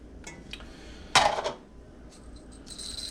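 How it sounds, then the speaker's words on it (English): Chopped onions, carrots and celery tumble into a metal stock pot with a brief clattering burst, followed by light clinks and a faint ringing tone in a quiet kitchen. "So we're just going to add our mirepoix."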